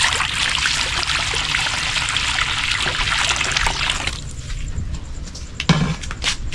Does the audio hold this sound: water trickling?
yes